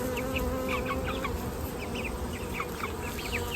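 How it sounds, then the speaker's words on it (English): Steady honey bee buzzing fills the background, with scattered high chirps of birds above it; no talking. "one of my bees already found it"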